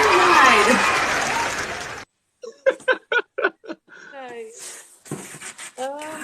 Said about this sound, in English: Give her the round of applause